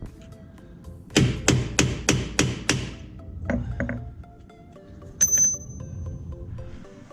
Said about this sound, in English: hit it with a center punch between the thread and the nut